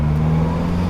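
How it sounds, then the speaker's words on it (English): Toyota Starlet fitted with a big turbo, engine droning loud and close at a steady low pitch for about a second, a sustained tone with no talk. "the Starlet, the fact that it makes these killer noises"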